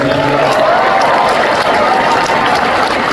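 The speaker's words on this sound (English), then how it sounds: "Give yourself a round of applause, fans." Fans in a large convention hall audience at Fan Expo Denver applaud in a loud, continuous roar of clapping mixed with crowd noise, sustained throughout.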